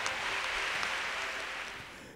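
A church congregation claps together after a prayer, a dense, fairly loud wash of applause that fades slightly toward the end.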